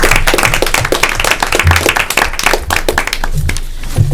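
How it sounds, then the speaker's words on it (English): Applause rising from the audience at a school board meeting, a steady wash of many hands clapping at close range that runs through the whole moment without letup. "I think we should give them a round of applause"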